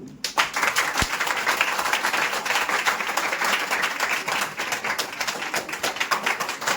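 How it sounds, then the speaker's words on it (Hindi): A classroom of students claps hands together, a dense, steady burst of applause lasting several seconds, loud and close with many overlapping claps and no clear speech. "आप देख करके ताली बजा दीजिए"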